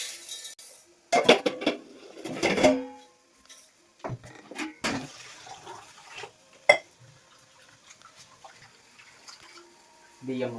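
Rice being rinsed in water in a home kitchen, with sloshing, swirling and clinks against the pot in uneven bursts, close by, mixed with other kitchen clatter.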